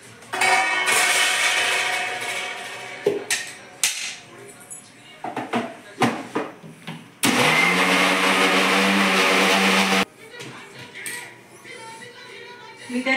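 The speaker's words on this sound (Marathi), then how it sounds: "मिक्सरला लावून घेऊ." A kitchen mixer blends bananas with a little milk and chopped cashews for a banana shake: loud bursts of whirring motor, the longest steady run near the end, with someone talking in the pauses between runs.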